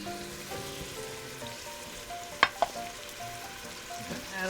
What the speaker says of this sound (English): onion and garlic cooking. It's on medium-high heat